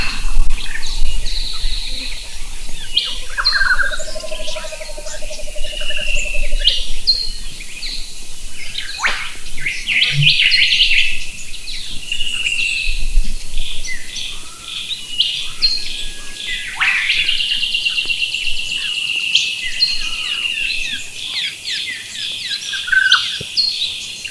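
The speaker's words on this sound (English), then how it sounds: "as you can hear, there's a plethora of birdsong being recorded" Birdsong at a campsite at dusk, with several birds chirping and trilling in overlapping phrases, some calls close and bright, others softer and farther off, over a faint insect hum.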